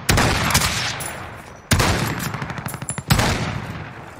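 Light machine gun fire in Call of Duty: Warzone, three loud bursts of rapid shots, the middle burst a clear rattling string of separate rounds, heard close with brief gaps between bursts.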